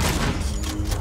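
Shotgun blasts in the video game Alien Isolation, a loud, dense burst of booming gunfire with heavy low-end rumble filling the whole second.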